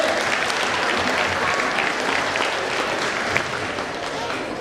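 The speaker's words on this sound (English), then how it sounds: "Let's give yourself a hand clap." Audience applause at a talk, a continuous wash of clapping from a crowd, fairly loud and steady, with voices mixed in underneath.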